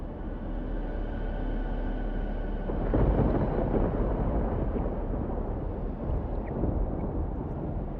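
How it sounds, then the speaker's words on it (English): A steady rumbling storm in the video game Life is Strange Double Exposure, a low continuous roar of wind and rain that swells slightly midway, with no voices over it. "Okay, the storm's not so bad here."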